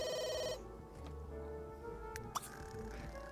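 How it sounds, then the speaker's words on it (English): A typical phone ringtone chimes in The Sims 3, a short repeating electronic ring at the start that stops abruptly, followed by quiet clicks and small game sounds. "These ringtones are typical phone ones."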